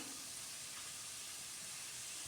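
Onion, green chilli and curry leaves sizzling in hot oil for an egg roast, a soft, steady hiss with no pauses, heard faintly and alone.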